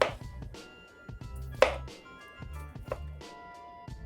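Knife chopping a red pepper on a cutting board in a home kitchen, a steady series of close, crisp cuts with short pauses, alone without talk.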